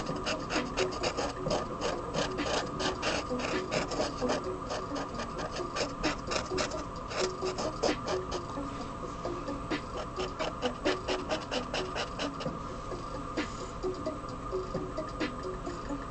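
A Prismacolor marker scrubs back and forth over sweatshirt sleeve fabric in close, continuous rasping strokes with a quick, even rhythm that runs for about sixteen seconds without talk.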